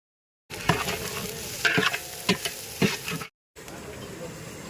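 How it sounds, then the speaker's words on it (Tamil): Grated coconut is stir-fried with onions in a pan, a close, busy sizzle punctuated by several scraping stirs, cut off briefly before the frying resumes more quietly. "இப்போ வந்து தேங்காய் துருவலையே அதிலே போட்டு சேர்க்குறாங்க"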